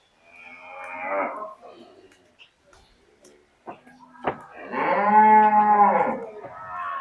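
A Friesian Holstein bull at a cattle auction lets out one long, loud, close moo near the end, after a short grunt and scattered faint knocks, with no one talking over it.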